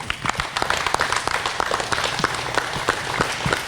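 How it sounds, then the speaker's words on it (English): A crowd applauding, dense steady clapping that holds at a constant level throughout, fairly close. "let's give one more big round of applause to Trooper Josh Dura."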